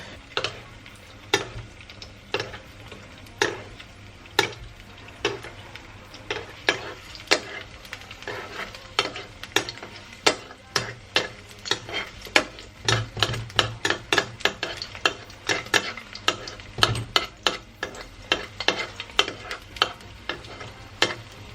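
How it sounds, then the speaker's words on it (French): An egg fries in hot oil, seasoned with salt and white pepper, while a spoon bastes hot oil over it: a steady close sizzle broken by frequent sharp metallic spoon taps against the pan. "Je prends une cuillère et je viens mettre l'huile chaude sur mon œuf."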